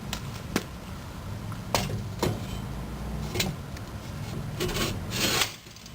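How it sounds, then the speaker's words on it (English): Add-on tube of a Hitch Rider Trike-N-Bike TB1-2LB rack telescoping down into the hitch column, giving a steady metal-on-metal scraping rub with several sharp knocks and clunks along the way, close and without talk. "you simply telescope it down in until it bottoms out"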